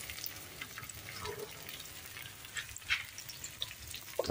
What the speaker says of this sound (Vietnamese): Đó xèo luôn.